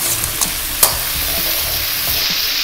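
Onion, cumin and curry leaves frying in oil for drumstick sambar: a steady close sizzle with soft stirring clinks and one sharp scrape partway through, no voices.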